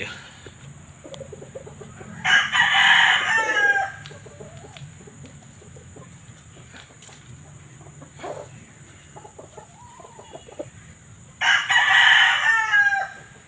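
A rooster crows loudly twice, the calls spaced about nine seconds apart, with quieter clucking and farmyard background noise in between.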